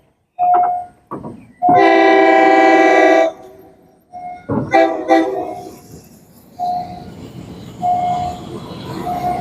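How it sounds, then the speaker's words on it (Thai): At a level crossing on Bang Khun Thian Road in Bangkok, a loud, long train horn blast sounds up close, then the train rumbles past with further short horn toots and rattling wheels fading out. "รถไฟมาแล้วพี่น้อง"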